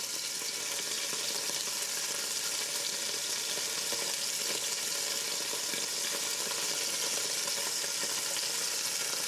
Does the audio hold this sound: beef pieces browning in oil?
yes